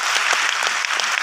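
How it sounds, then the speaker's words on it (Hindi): An audience claps in a dense, steady burst of applause, loud and close, lasting about a second. "अच्छा लगे तो ताली मारना।"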